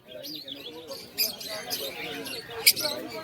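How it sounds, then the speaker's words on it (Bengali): Five lovebirds in a cage at the Birnagar market give sharp, sparse chirps and squeaks against a faint market hubbub with voices. "একটা খাঁচার মধ্যে পাঁচ পিস লাভবার পাখি রয়েছে"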